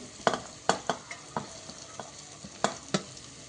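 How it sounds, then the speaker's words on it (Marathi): Onion and capsicum sautéed in a pan for veg biryani: a soft sizzle under repeated sharp scrapes and taps of a spoon stirring, irregular and close, with no talk. "कांदा चांगला परतवून झाला का त्यात शिमला मिरची टाकायची आहे"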